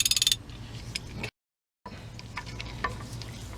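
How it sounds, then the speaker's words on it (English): Ratchet working on oil pan bolts under a Dodge Caravan, with a quick burst of clicks at the start, then faint metallic clinks and scraping, a short silent gap, and more quiet tool handling. "I take off the rest of the oil pan bolts right there"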